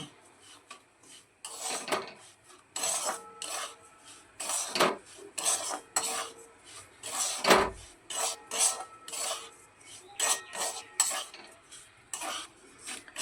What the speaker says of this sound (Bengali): ঘিয়ের মধ্যে সুজিটা খুব ভালোভাবে নেড়ে নেব।